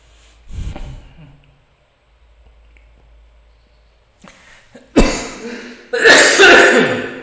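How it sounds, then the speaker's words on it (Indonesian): A man coughs while teaching an elementary science lesson: two loud, harsh coughs close to the microphone about a second apart, after a quieter stretch with a faint throat sound. "akhirnya batuk juga"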